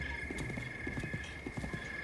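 A giant horse in the video game The Legend of Zelda: Breath of the Wild gallops with a rapid, rhythmic clip-clop of hooves over a steady game soundscape.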